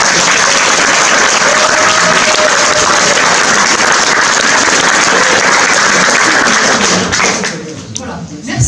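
An audience at a public meeting for European elections in Dijon applauds: dense, loud, sustained clapping that carries on for about seven seconds before thinning out, with a voice briefly heard at the end.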